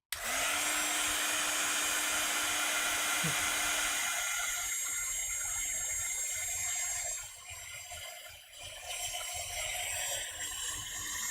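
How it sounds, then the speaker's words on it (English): A heat gun blows steadily over stamped cards, a loud, continuous airy roar that holds for several seconds then dips and wavers slightly as it is moved, with no talk over it. "Heat gun."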